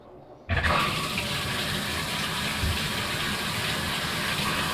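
A shower tap is opened after repairs to the shower valve, and water abruptly gushes on after a brief quiet moment. The running water then stays a loud, steady rush, with no talking.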